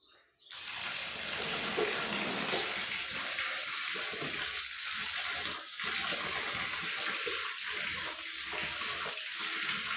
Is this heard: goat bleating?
no